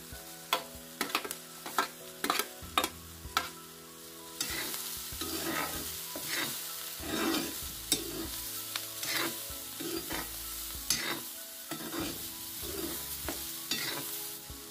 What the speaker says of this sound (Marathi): कांदा पण व्यवस्थित लालसर वगैरे होईपर्यंत, चांगलं भाजेपर्यंत तेलात आपण परतून घेतलो.